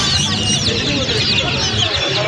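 Dense, continuous clucking and chatter of many chickens and other fowl at a poultry market in Nimtoli, Dhaka, with birds layered close and far in a busy, steady din.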